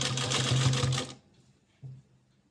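A sewing machine stitches a folded frill strip onto a child's circle frock, running in a fast, steady buzz for about a second before stopping, then giving one short burst of stitching after a pause.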